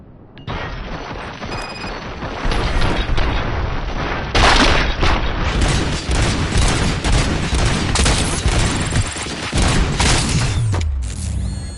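Dense, loud gunfire from a RoboCop: Rogue City video game on PS5, with rapid shots and booming impacts running almost continuously, and a few short lulls between bursts.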